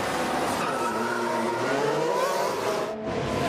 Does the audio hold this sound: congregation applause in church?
no